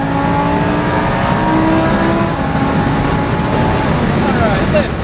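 Lamborghini engine on a race track, a loud steady roar with a sustained tone that shifts as the driver rolls off the throttle near the end, under constant wind and road noise.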